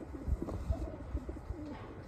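A racing pigeon coos softly while being handled, with low, rounded throaty pulses repeating unevenly over a couple of seconds, close and fairly quiet against faint background hiss.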